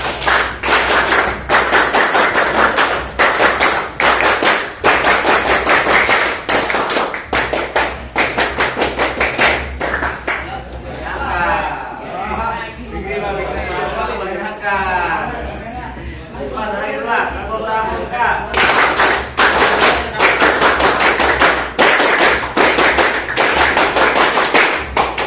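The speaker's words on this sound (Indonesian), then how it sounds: "Saya ingin kalian tepuk pramuka." Classroom of students in scout uniforms doing the rhythmic scout clap routine, loud rapid group clapping in patterned bursts, breaking mid-way into a chanted chorus of voices before the clapping resumes.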